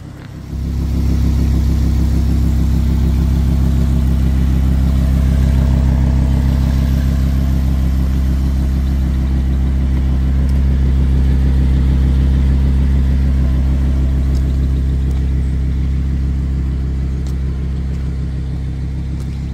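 A 2023 Audi R8 with a 5.2-liter V10 of 562 horsepower, running with a loud, steady, deep engine rumble that holds nearly constant throughout, with no voices.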